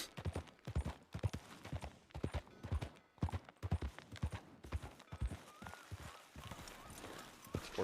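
Steady clip-clop of horse hooves trotting in the video game RedM, a rhythmic clatter running the whole way through with some background game noise.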